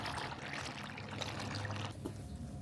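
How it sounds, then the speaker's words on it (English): Water pours and trickles out of a Polaris FREEDOM Plus cordless robotic pool cleaner as it is lifted from the pool, a steady close splashing drain that thins toward the end. "all the water will be expelled from the cleaner, making it very light and easy to remove"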